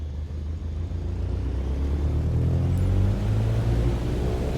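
A simulated light aircraft's engine runs at full takeoff power in Microsoft Flight Simulator on Xbox Series S, a steady loud drone and rumble that holds for several seconds, alone without talk.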